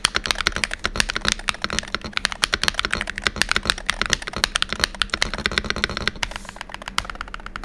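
Rapid, steady typing on an Ajazz AK680 Max keyboard, a dense run of close, crisp keystrokes that continues without pause and with no voices over it.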